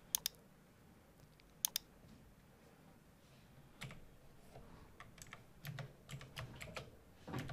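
Computer keyboard typing on a Windows PC: a few isolated sharp key clicks early on, then denser bursts of keystrokes toward the end, quiet and close with a faint room hum behind.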